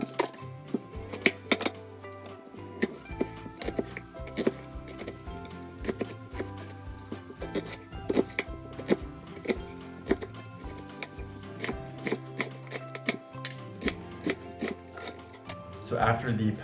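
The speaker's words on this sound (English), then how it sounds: "I'm going to cut up the onion." A knife chops an onion on a cutting board, a close, rhythmic series of sharp knocks continuing steadily, with faint kitchen clatter beneath.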